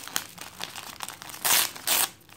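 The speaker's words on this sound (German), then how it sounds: "Ist wieder sehr gut eingepackt. Also wird es jetzt einfach aufgerissen." Well-wrapped gift paper being torn open by hand: short crinkles and rips build to two long, loud tearing bursts near the end, close up with no talking.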